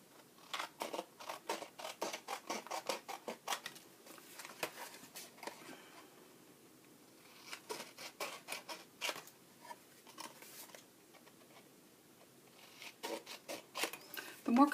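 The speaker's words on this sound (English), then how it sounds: "I'm just going to cut that with my scissors." Scissors snip through paper in quick, close bursts of crisp cuts, trimming a cover for a toilet paper tube photo book, with short pauses between runs.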